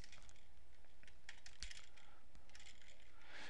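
Rapid clicking of keys on a computer keyboard, close and fairly quiet, tapping in irregular bursts with a few sharper strokes and no voices.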